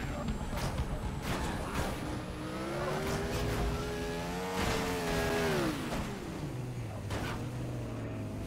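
A Lamborghini's engine in the Dead Rising 3 video game drones steadily and close throughout, its pitch rising and falling as it revs and accelerates, with brief louder surges.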